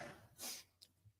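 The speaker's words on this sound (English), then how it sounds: "Well, I sneezed." A single short sneeze bursts out close to the mic in a quiet room, followed by a small sniff and a soft breath.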